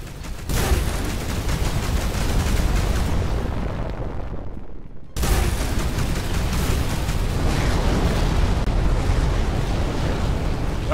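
An enemy ship being destroyed in the space combat game Between The Stars, loud dense rumbling explosions and blasts that fade briefly before a sudden renewed burst of heavy, continuous detonations.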